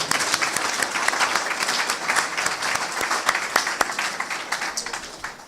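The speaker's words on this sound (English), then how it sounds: "I'd like to give a big round of applause to the Tapestry group" A full room of audience members gives a sustained round of applause at a community arts event, dense steady clapping with a few sharper claps standing out, lasting several seconds without speech.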